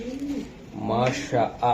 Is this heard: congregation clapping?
no